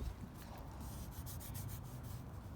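A WORX 20V Powershare Sandeck 5-in-1 cordless sander runs against wood, giving a steady close rubbing, grinding hum with a constant low rumble throughout and no speech.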